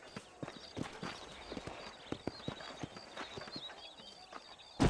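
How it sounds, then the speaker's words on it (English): Horses' hooves clip-clop in an irregular walking rhythm in the Western video game Red Dead Redemption, outside Armadillo, a steady scatter of close, crisp hoof strikes with no talk. "These are fine horses."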